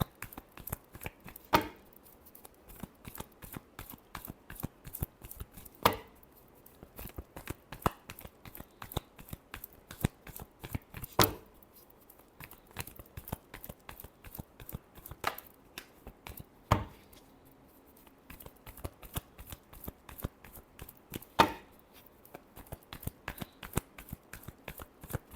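Tarot cards being shuffled by hand: a steady run of quick, crisp papery flicks and riffles, with sharper louder bursts recurring every few seconds, close and alone with no talking.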